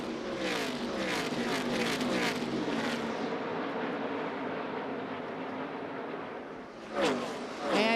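NASCAR Truck Series trucks race around the track during the SpeedyCash.com 250, their high engine whines sweeping past in waves, with another surge close by near the end.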